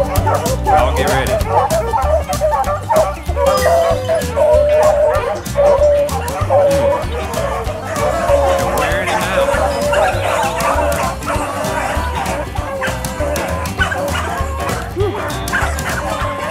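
Beagles baying and yipping on a rabbit hunt, a pack giving tongue in rapid overlapping barks and howls that carry on without pause, with music playing underneath.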